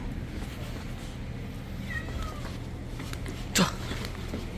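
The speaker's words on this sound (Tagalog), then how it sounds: "May pusa sa loob." A cat shut inside a pet carrier during a trip gives a couple of faint, thin meows over a steady rumble of travel noise, followed by a brief knock.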